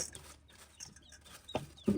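Farm chickens, about ten young birds, giving a few soft clucks and chirps followed by a sharper squawk near the end, faint and close in a quiet setting.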